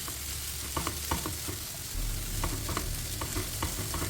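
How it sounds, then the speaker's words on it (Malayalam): Steady frying sizzle over a medium flame with a hissing, crackling wash, broken by scattered scraping clicks of stirring; close and continuous, no voices. "നമുക്ക് ഇതൊരു മീഡിയം ഫ്ലെയിമിലിട്ടിട്ട് നമുക്കിത് വറുത്തെടുക്കാം"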